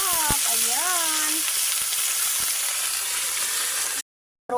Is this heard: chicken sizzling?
yes